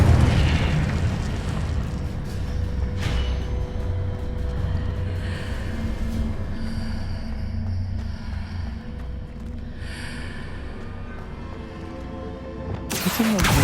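Incendio fire spell erupting in the Hogwarts Legacy video game, a loud rumbling burst of flame that roars continuously, with a sharp crackle near the end.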